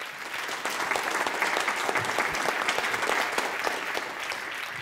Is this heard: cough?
no